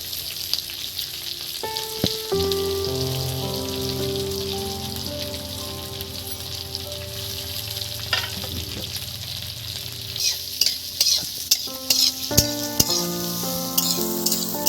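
Chopped onion sizzles steadily in a hot pan while fish roe and eggplant are cooked, with a continuous frying hiss, occasional stirring clatter and tonal background music underneath.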